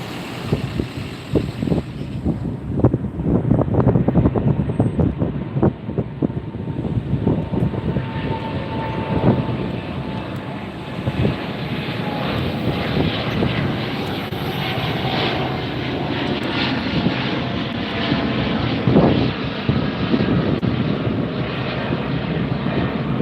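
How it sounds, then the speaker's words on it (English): An Air Tahiti Nui airliner takes off down a runway at LAX, a loud sustained jet engine roar building and holding steady as it rolls by fairly close, with no voices heard. "It's rolling down the runway. There it is. Air Tahiti Nui."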